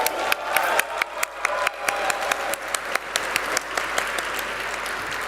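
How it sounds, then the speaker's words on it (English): Audience applause at the LG Electronics India Limited stock listing ceremony, a steady wash of clapping with sharp individual claps standing out near the microphone and light crowd murmur underneath. "can we have a huge round of applause for LG Electronics India Limited?"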